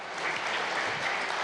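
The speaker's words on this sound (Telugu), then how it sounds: "A big round of applause for her." Audience applause for a classical dancer at a Ugadi cultural event, a steady dense clapping crowd filling the room throughout, loud and continuous.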